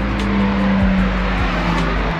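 Steady roar of passing cars in busy road traffic near a gas station, with a sustained low engine hum and a few quick passes sweeping by, fairly loud and without talk.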